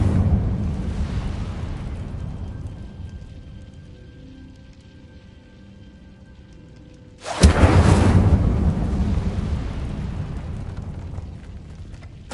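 A fiery Incendio spell bursts out in Hogwarts Legacy, a sudden loud broadband whoosh and roar that flares up and keeps burning, following a quieter rumbling stretch.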